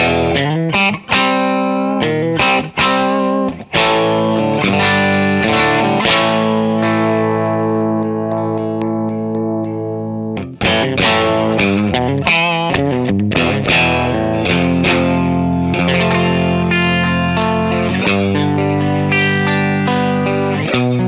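Heavily distorted electric guitar through a single coil bridge pickup on a custom-made USA Explorer-style guitar, playing loud chugging riffs and sustained chords with effects, one brief pause midway, no talking.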